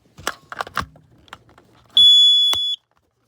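A modern household smoke alarm gives one loud, steady high-pitched shriek lasting under a second, with softer clicks and handling noises before it.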